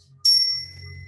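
A single bright chime struck once to cue an in-breath during a yoga stretch session, ringing clearly and fading slowly over a low background hum.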